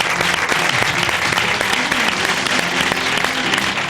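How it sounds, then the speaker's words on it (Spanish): A studio audience applauds on a Catalan television talk show, steady dense clapping that fills the whole stretch at full volume, with no voices over it. "Sarai, fort aplaudiment"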